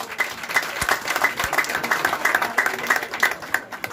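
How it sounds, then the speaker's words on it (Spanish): A crowd at a community electrification project event applauds steadily, dense overlapping claps sustained for several seconds without a break. "regalémosle un fuerte aplauso a cada uno de ellos"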